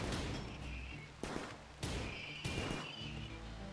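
Turrets in Rimworld fire on raiders led through a trap-lined hallway, heard as a steady crackle of gunfire with several sharper bursts over a low rumbling game background.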